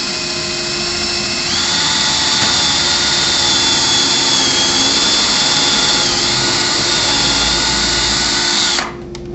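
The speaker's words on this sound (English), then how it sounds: "First, we'll need to pre-drill and countersink." A power drill whines at high speed for several seconds, pre-drilling and countersinking a hole for a bugle head screw, loud and close, then spins down abruptly at the end.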